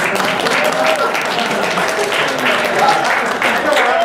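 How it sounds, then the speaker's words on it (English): Audience applause at a fan convention Q&A panel, a steady wash of clapping that holds loud and even for about four seconds, with some voices or murmur mixed in. "That's guaranteed applause."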